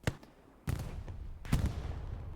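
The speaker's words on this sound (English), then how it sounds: "Not sure what that grenade explosion just was." A grenade explosion in the Hell Let Loose battle game is heard as a few distant, sharp bangs spread over two seconds, fairly faint, with low rumble trailing each.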